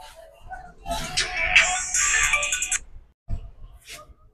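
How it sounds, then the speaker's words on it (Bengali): A mobile phone ringtone sounds for an incoming call at a market stall selling imported goods, a bright electronic melody playing in bursts and breaking off, then a few short sounds follow. "দাঁড়ান একটু কল আসছে।"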